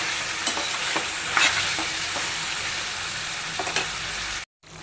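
Spicy Andhra-style chicken fries in a pan until its released water dries off, giving a continuous close hiss and sizzle with occasional spoon scrapes, ending in a brief cut to silence.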